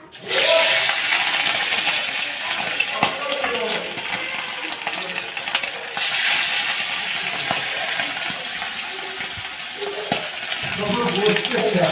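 Small fish frying in hot oil for a rainy-day khichuri meal, a busy crackling sizzle close by with occasional clinks and stirring, and faint voices in the background.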